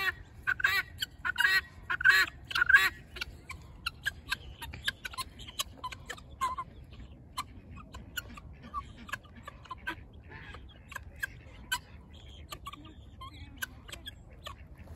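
Freshly released guinea fowl call with rapid, harsh, clattering cries, busiest and loudest at first, then thinning into scattered sharp calls over an outdoor background.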